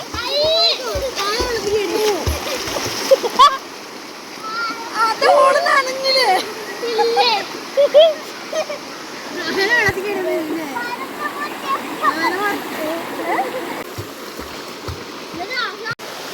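Children shout and talk excitedly while water splashes repeatedly around them, with a steady rush of flowing water in the background.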